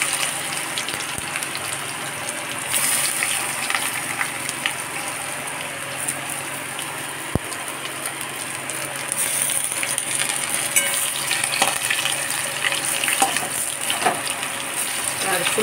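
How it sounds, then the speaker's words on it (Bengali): Potatoes fry in oil just used for frying cauliflower, a continuous close hiss and crackle with occasional stirring scrapes and a single sharp knock partway through. "আলুগুলো ফ্রাই করবো।"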